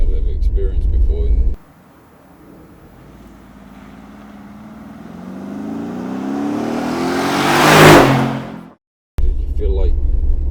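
A Mercedes G63 AMG G-Wagon accelerates hard, its engine note climbing steadily in pitch and loudness to a roaring peak before cutting off abruptly, with brief talking just before and after the run.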